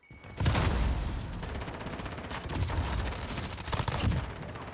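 Rapid bursts of gunfire in Call of Duty: Modern Warfare, loud close shots in dense volleys with brief gaps, rising and falling in intensity across a few seconds.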